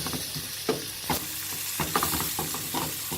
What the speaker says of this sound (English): Keep stirring the onion every once in a while.